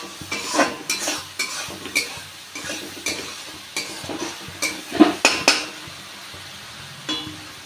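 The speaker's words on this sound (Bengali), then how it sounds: "এখন আরেকটু মশলাটা কষবে।" A metal spoon stirs spice masala frying in oil in a pan, scraping and clinking in a steady rhythm of strokes over a soft sizzle, close and clear with no talking.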